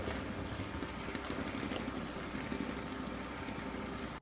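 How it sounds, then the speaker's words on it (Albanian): An electric mixer beats mascarpone into a thickened cream for tiramisu, giving a steady, continuous motor whir with a low rumble that runs evenly throughout before cutting off abruptly at the very end. "Vazhdojmë rajmë me mikser edhe 2-3 minuta tjera"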